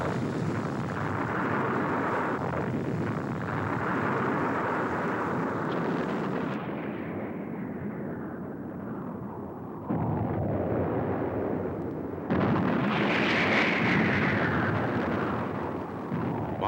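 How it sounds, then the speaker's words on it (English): Bombing from airstrikes along the Vietnam War supply trail, heavy rumbling blasts and roaring detonations rolling on continuously and loudly, with a fresh surge of explosions near the end and no voices. "Airstrikes against the trail tripled to 200 each day."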